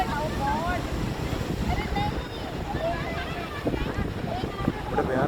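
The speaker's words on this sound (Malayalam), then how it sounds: "കടൽ നല്ല തിരയുണ്ട് കേട്ടോ, നല്ല തിരയുണ്ട്. അത് ശക്തമായിട്ടുള്ള കാറ്റും ഉണ്ട്." Rough sea with strong waves near a container ship and crane off Thiruvananthapuram in rainy weather, heard as a churning wash and gusty wind buffeting the microphone, with scattered voices in the background.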